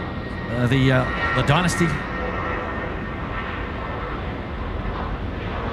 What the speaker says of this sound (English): another aircraft that features as part of the curfew show, departing off to Taipei